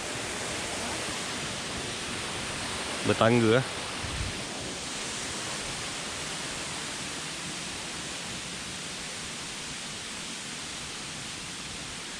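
Steady broadband rush of a waterfall at Fraser Hill, constant and enveloping for the whole stretch, with a brief voice speaking over it near the start.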